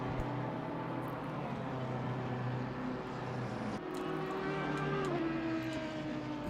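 GT3 race cars roar by in Assetto Corsa Competizione on the Kyalami circuit. Sustained engine drone shifts pitch as cars pass one another, steady and loud throughout.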